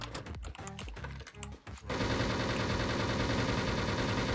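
Rapid bursts of Abudhabi-16 rifle fire in the Wolfteam game: short stuttering volleys with brief gaps, then a dense unbroken stream of automatic shots that continues loud to the end.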